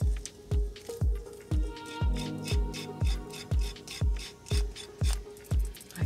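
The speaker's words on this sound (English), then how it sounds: "using the little grater to grate off some more" A small hand grater rasps across soft polymer clay in a steady run of about a dozen close, even strokes, each a short scratchy burst, with no talking.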